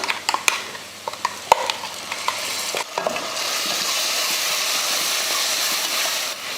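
Ground masala paste is added to a pan of fried mint, coriander leaves, ginger and garlic. A few clicks of stirring break into a loud, steady close sizzle that hisses on without pause.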